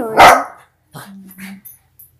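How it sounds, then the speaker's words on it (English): A dog gives one loud, close bark indoors, followed by a few softer yips and whines. "That's what she's barking at?"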